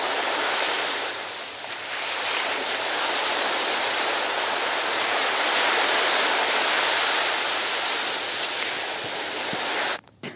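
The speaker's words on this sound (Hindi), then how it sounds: "समुद्र की आवाज़" Sea waves wash in steadily at night under a full moon, a broad, continuous roar of surf that stays loud and even before cutting off abruptly near the end.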